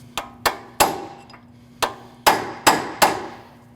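A hammer strikes a punch to stake the front axle nut over into its groove on a 2014-2023 Jeep Cherokee front suspension, seven sharp metallic blows in uneven spacing, close and loud, with no talking.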